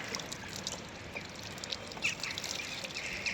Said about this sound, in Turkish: Şimdi daha da su dökeyim üzerine